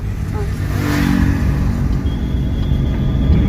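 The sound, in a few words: car engine while releasing the clutch on an uphill road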